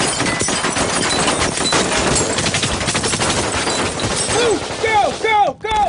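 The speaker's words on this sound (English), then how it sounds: "the French Special Forces is evacuating the passengers through a hail of gunfire." Dramatized gunfire during a special forces rescue of passengers from a hijacked Air France plane, dense rapid bursts of shots and crashing debris that continue throughout, loud and close, under voices and with sharp screeching tones near the end.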